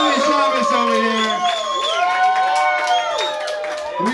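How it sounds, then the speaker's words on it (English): A live music crowd cheers and whoops for a band's new drummer at his first show, many overlapping shouts and yells ringing out loudly and continuously, with applause mixed in. "Please give a big round of applause to our brand new drummer, his first show tonight"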